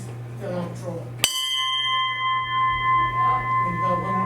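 A memorial bell rings once for lost submarine shipmates at a submarine veterans' base meeting, a sharp strike that leaves a long, clear, ringing tone. Murmured voices and a low hum precede the strike.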